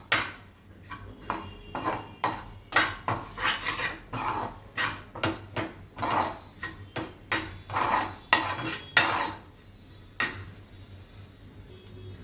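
Capsicum and finely chopped coriander mixed in a pan for a shimla mirch besan dish, a quick run of regular metallic scrapes and knocks of a spoon against the pan, close and with no talking.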